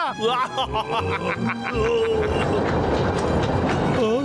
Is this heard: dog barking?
no